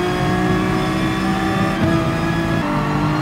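Racing car engine in the Gran Turismo Sport video game, a loud sustained drone with pitch shifting as it climbs and drops through gears, close and continuous with no talking.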